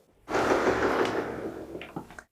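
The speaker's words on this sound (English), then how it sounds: "so let's open the door" A bedroom door with a wired-glass panel in a pre-war villa apartment is pushed open, giving a sustained scraping, creaking swing followed by a few light knocks and clicks as it settles, close and fairly loud.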